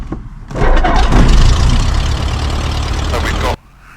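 A Rollason Condor D.62B light aircraft engine cranks and catches, then settles into a loud, steady close-up run for about three seconds before cutting off abruptly.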